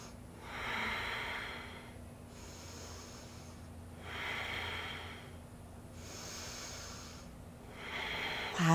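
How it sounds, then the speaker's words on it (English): Slow, steady breathing during a beginner yoga balance flow, three soft, airy inhale and exhale cycles with a gentle nasal hiss, close and quiet, no talk. "We're breathing for three."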